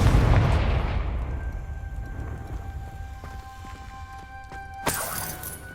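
A Confringo fire spell blasts in Hogwarts Legacy: a deep, loud boom opens and rumbles away over several seconds, followed by a sharp crack near the end.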